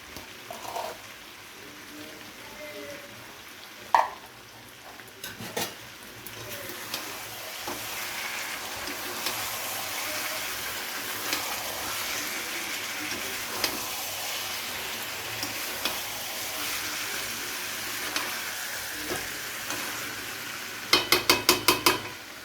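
Mutton bhuna being stirred with masala in a pan gives a steady soft sizzle and scraping throughout, with a few sharper clinks of the spoon against the pan and a quick rattle near the end.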